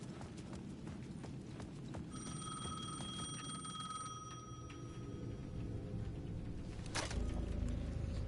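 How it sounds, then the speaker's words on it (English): A payphone at the edge of a plaza rings in the video game Alan Wake 2, a faint, thin electronic ring lasting a couple of seconds over a quiet, rustling game ambience. "The payphone at the edge of the plaza was ringing again."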